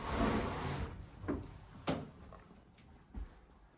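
A storage cupboard door in a Glasgow flat opens with a burst of wooden rustle followed by a few distinct knocks and clicks, close and fairly loud, with no voices.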